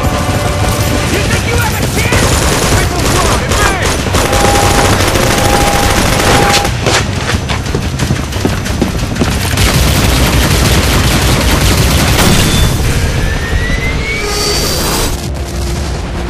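Sustained rapid fire from a video game machine-gun turret on an outpost, loud and dense, rattles almost without pause, with occasional booms and high whistling tones through the barrage.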